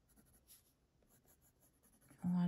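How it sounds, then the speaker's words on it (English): Faber-Castell Polychromos colored pencil blending with ivory on paper: quiet, close scratchy strokes in short repeated bursts, ending in a sudden louder hum. "Polychromos are my favorite pencil."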